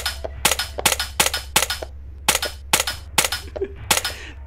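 A toy gun fires in the video game Happy Place, with about a dozen sharp cap-gun-like shots in uneven bursts over a low steady background hum.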